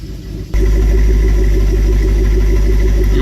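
A 2008 Jeep SRT8 engine catches after a cold start and settles into a steady, loud, close idle with a deep rumble. A quiet pause comes before it fires.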